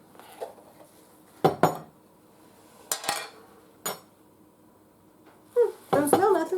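Dishes and cutlery clatter in a home kitchen while someone reaches for another spoon during cooking of honey mustard sausage: several sharp metallic clinks and knocks in separate bursts, with a cluster of rattling at the end.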